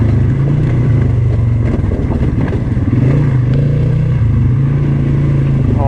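A Polaris Sportsman 570 SP ATV rides through a frozen ice crust and slush, its engine droning loud and close with steady low rumble, slight pitch swells, and crunching clatter underneath.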